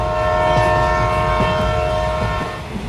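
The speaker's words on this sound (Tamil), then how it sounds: "ட்ரெயின் கிளம்பிடுச்சு" A train departs a station as a staged sound effect in a church women's skit, with a loud sustained horn and rolling rail rumble and faint clicking, heard close and without speech.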